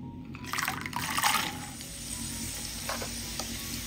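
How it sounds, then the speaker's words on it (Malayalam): Raisins and cashews frying in hot oil give a loud, bubbling sizzle, swelling early then settling into a steady crackle, with occasional stirring clinks. "ഇനി ചൂടായി കിടക്കുന്ന എണ്ണയിലേക്ക് കുറച്ച് കിസ്മിസും കശുവണ്ടിയും ഒന്ന് ഫ്രൈ ചെയ്തെടുക്കാം."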